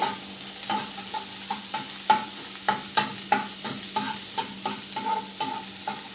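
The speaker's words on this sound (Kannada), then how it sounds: "ಸ್ವಲ್ಪ ಈರುಳ್ಳಿ ಫ್ರೈ ಮಾಡುವ ಮಸಾಲೆಗೆ" Onions frying in oil in a pan for a masala, a spatula stirring in a steady rhythm of close, crisp scrapes over continuous sizzling; no voices.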